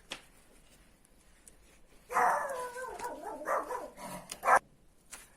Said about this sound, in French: C'est ma chienne qui a entendu un bruit à l'extérieur